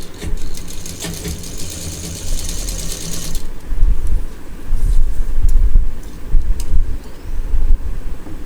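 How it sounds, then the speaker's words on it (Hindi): A sewing machine stitches along the sides of fabric strips for a flat DIY potli pouch. It gives a loud, steady mechanical clatter and whir that runs the whole time with no talking. "दोनों पट्टियों की साइड हम सिल देंगे।"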